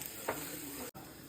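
Onions with garam masala being stirred in a hot pan for a masala omelette, a soft steady sizzle with one brief scraping stir near the start and a quick cut in the sound.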